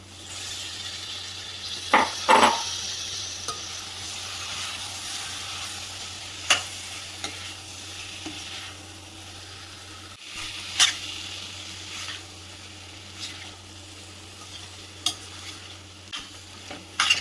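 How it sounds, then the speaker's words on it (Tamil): Prawns sauté in a pan for a village-style prawn gravy, a soft continuous sizzle marked by repeated sharp scrapes and knocks of a stirring spoon, with no speech. "இப்போ அந்த இறாவை சேர்த்துருவோம்."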